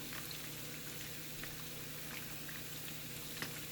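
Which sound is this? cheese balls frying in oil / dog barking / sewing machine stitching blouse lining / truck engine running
cheese balls frying in oil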